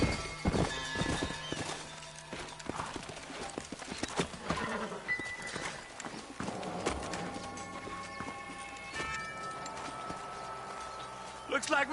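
Horses in the video game Red Dead Redemption clip-clop along in an irregular run of hoof strikes, with a whinny and other game effects mixed in and voices talking over the scene.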